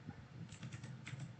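Keystrokes on a computer keyboard while entering a RADIUS server host command in a network configuration, a quick run of soft, close clicks over a low background hum.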